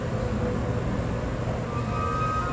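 A nine-car funeral train for President Lincoln rolls along with a steady, even rumble and faint high squeals near the end, with no talk.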